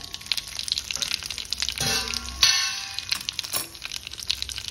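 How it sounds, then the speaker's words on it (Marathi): Cumin seeds, two dried red chillies and curry leaves sizzle and crackle in hot oil under a half-covered pan, a close, busy spitting with a couple of louder bursts and light metallic clinks. "अर्धा चमचा जिरा घातला आहे, 2 वाळलेल्या मिरच्या, कढीपत्ता घातला आणि अर्ध झाकण ठेवायचं, म्हणजे फोडणी गॅसच्या ओट्यावर उडत नाही।"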